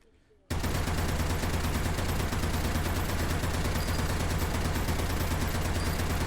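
Weapon fire in the H3VR virtual reality shooting game: after a brief quiet moment, a dense, continuous roar of rapid automatic gunfire starts abruptly and stays loud and unbroken to the end.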